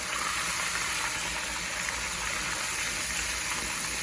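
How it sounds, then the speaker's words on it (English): Pork chops deep frying in a pan of deep oil, a loud steady sizzle and crackle that holds evenly throughout with no speech over it. "we're essentially deep frying in a pan"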